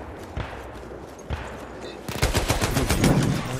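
Rapid gunfire from the World War I shooter game Battlefield 1, a few isolated shots early on, then a dense, loud burst of repeated automatic fire in the second half.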